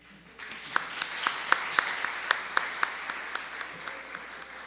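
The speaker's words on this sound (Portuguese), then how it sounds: "Podemos aplaudir agora?" Audience applause at an academic image-studies conference in a lecture hall: a steady wash of clapping from a modest crowd, with sharp individual claps standing out at a regular beat. It runs for several seconds before fading slightly.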